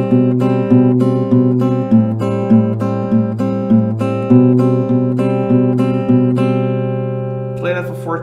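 An acoustic guitar strums a repeating chord progression slightly slower than usual tempo, with evenly spaced strokes ringing out close and bright, a brief clatter at the very end.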